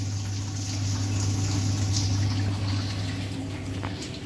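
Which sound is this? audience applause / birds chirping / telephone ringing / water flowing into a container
water flowing into a container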